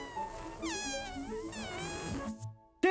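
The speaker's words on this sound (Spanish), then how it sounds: "¡Gato!" Cartoon cat meows in a children's Spanish-language show: two drawn-out, wavering meows in succession over a soft musical background, then a brief pause and a short clipped sound at the end.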